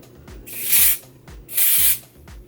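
Two loud, close bursts of spray hiss from a pump bottle, each lasting a fraction of a second, separated by a short pause.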